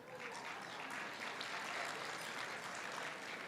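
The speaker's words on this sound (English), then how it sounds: "You can clap for them." An audience claps at a debutante cotillion gala in Chicago, a dense, even wash of applause that holds steady throughout at a moderate, distant level.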